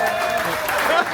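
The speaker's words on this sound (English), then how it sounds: "Everybody please, one more big applause" Audience applause at an event in Fuerteventura, a steady dense patter of clapping filling the short moment at even loudness.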